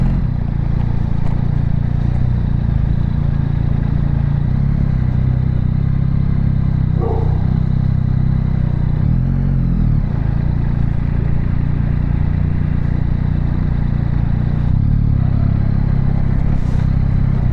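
A Yamaha XSR 900 motorcycle being ridden in Gran Canaria, with steady loud engine and road noise throughout and no talk.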